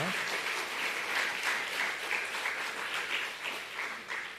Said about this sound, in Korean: 우리 박수 올려드리도록 하겠습니다